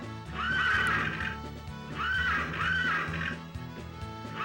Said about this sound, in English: Yeah, there is a horse named For You